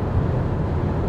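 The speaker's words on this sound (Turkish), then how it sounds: "Yani sadece zaten rüzgar sesi var." A steady low roar of wind and road noise fills the cabin of a 2025 TOGG T10X driven at about 180 km/h in sport mode, with a constant level throughout.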